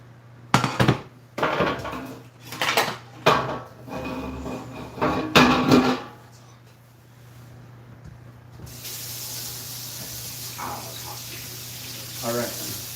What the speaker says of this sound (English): Wash this pan.